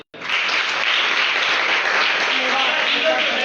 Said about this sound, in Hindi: यीशु मसीह के लिए जोरदार ताली हो जाए।